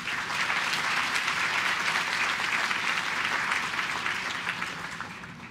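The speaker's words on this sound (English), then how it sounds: "Give yourselves a round of applause." A hall full of incoming pharmacy students at a USC White Coat Ceremony claps in a dense, even burst of applause that gradually tapers off near the end.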